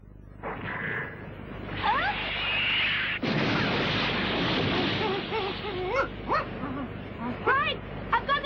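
A cartoon dog whimpers and yips in short, high, wavering cries, mixed with a loud burst of rushing noise and action effects, while voices talk over the scene.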